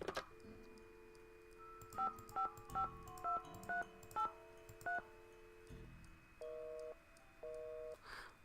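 Touch-tone keypad dialing in the Nancy Drew: White Wolf of Icicle Creek game, seven crisp evenly spaced beeps over a steady dial tone, then two longer ringing tones, clear and close with no talk.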